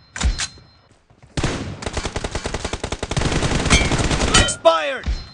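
Gunfire in the mobile video game BGMI during a team deathmatch: a couple of isolated shots, then long, loud, rapid automatic bursts with a few pauses, ending in a sweeping whoosh.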